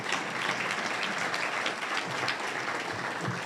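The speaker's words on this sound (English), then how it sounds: "Go ahead and clap for that" A school-district audience at the JCPS State of the District 2024 speech claps steadily, a dense and even wash of applause with no talk over it.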